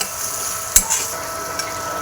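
Crumbled idli being stir-fried in a pan for crispy idli fry makes a soft, steady sizzle, with a few light clinks of a spoon against the pan.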